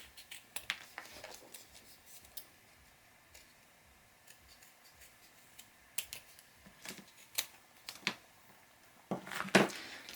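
Chipboard corners snipped off one by one while crafting a vintage postbox gift box, with sharp scattered clicks and cuts, sparse at first and then bunching together near the end, close up and moderately loud.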